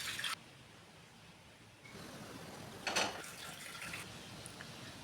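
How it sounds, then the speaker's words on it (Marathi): Lentils are rinsed in water in the kitchen, brief bursts of splashing and trickling between quieter gaps, faint and close. "डाळ आधी स्वच्छ 2-3 पाण्याने धुवून घेतली."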